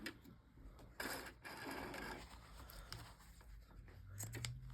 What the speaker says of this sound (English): This is a good sewing machine